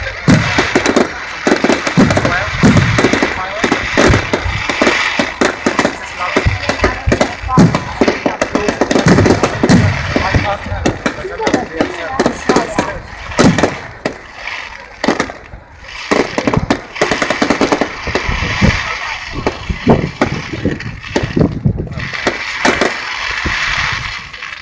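Fireworks explode at the Cambridge Bonfire Night display, loud and close, in rapid irregular volleys of bangs and crackles with short lulls; voices of the crowd sound faintly underneath.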